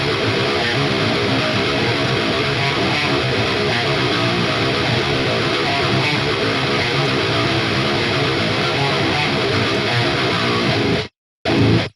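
A djent rhythm guitar tone from the Neural DSP Archetype: Misha Mansoor plugin plays a loud, dense, heavily distorted riff that stays steady, then cuts off abruptly with a short final hit near the end.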